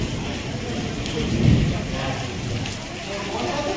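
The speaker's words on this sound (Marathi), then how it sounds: "पाऊस चाललेला आहे" Steady rain falling at a village temple in Galpur, Gujarat, near the Ghela river, a continuous wash of patter throughout with a brief swell midway and some voice underneath.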